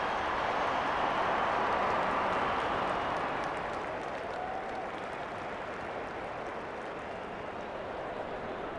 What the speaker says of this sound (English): In AFL 23, the crowd have a real stop-start nature to their cheering that only happens when the goal is scored.